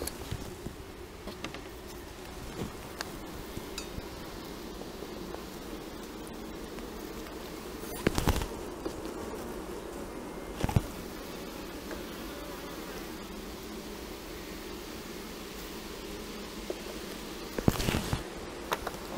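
Honey bees buzzing in a dense, steady drone around an open beehive during a hive inspection, fairly faint and continuous, with a few sharp knocks and handling noises.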